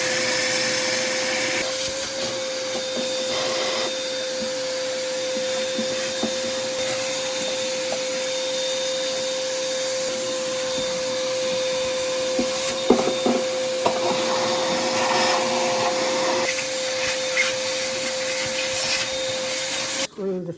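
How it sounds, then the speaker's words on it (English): Shop vacuum sucking abrasive media out of a Foredom Wolf sand blaster cabinet, a steady whining drone with a constant tone, broken by occasional scraping and rattling of the nozzle inside the unit. "We're going to vacuum out every nook and cranny of this, including around the gloves and in the nozzle."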